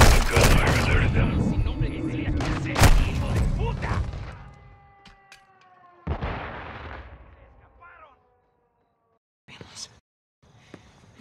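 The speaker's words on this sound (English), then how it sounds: "Gunfire alerted them." Heavy gunfire and explosive booms in Call of Duty: Modern Warfare II, a dense burst of loud shots that thins into scattered cracks and echoing tails, then a few isolated distant shots amid near silence.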